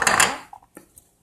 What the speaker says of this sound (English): you want to dump in the cocoa powder